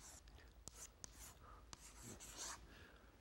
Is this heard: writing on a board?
yes